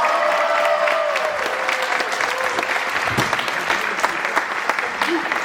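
A crowd claps loudly and continuously right after a signing-day ceremony for letters of intent, with cheering voices and chatter mixed in and a brief tone sounding early on, steady and close throughout.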